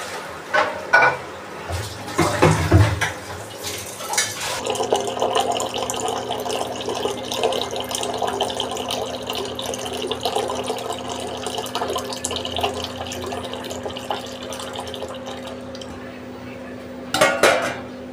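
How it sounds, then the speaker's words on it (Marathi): A cleaned metal water pot in a home kitchen being filled from a tap, a steady rushing stream running for most of the stretch, bracketed by clanks and knocks of metal vessels at the start and end. "आणि आता याला ना हंड्याला भरून घेते स्वच्छ पाण्याने."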